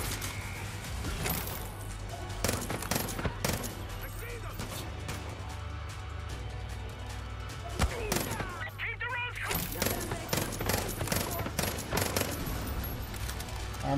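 Rapid submachine-gun bursts crackle in the Far Cry New Dawn shooter, loud stuttering volleys mixed with crashes and game ambience, with quieter gaps between bursts.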